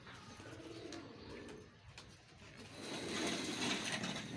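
Teddy breeder pigeons in a loft coo softly amid a busy background of rustling and faint mechanical clicking, the low murmuring calls rising and falling over several seconds.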